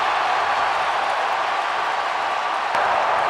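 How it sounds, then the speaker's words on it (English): A stadium crowd of over 65,000 football fans at LaVell Edwards Stadium roars in a steady, dense wash of cheering and noise that holds at a high level the whole time, with no single voice standing out. "as you hear the crowd really getting into it."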